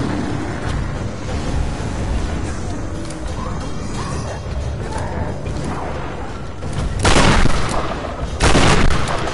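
Gunfire in a Tomb Raider video game boss fight, with two loud, sharp bursts standing out near the end over a dense, continuous bed of game noise and mechanical clatter.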